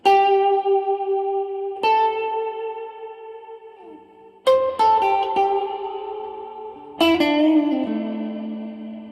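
A Gretsch electric guitar played through a vintage Marshall amp and a Boss reverb pedal rings out sustained chords and single notes, each strike blooming into a long, washy reverb tail, four distinct attacks across the passage.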